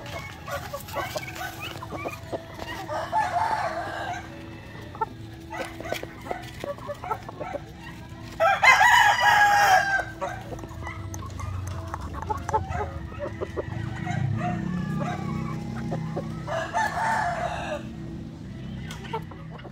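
Gamecock roosters bred for fighting crow several times at intervals, one loud nearby call standing out, while dogs bark and hens cluck in the background on a farm.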